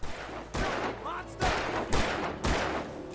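Gunfire in the video game Alan Wake sounds as four sharp, loud shots spaced about half a second to a second apart, each trailing a brief echoing tail, with a voice faintly under them.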